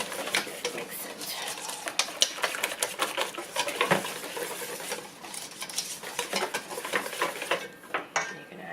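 Homemade roll dough being mixed in a bowl, with quick irregular scraping and clinking of a utensil against the bowl, close and moderately loud, without speech.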